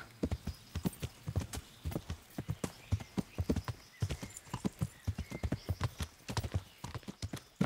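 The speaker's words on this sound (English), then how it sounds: "A horse." Horse hooves clip-clop in a quick, steady rhythm in the video game Kingdom Come: Deliverance, with a short whinny mixed in among the hoofbeats.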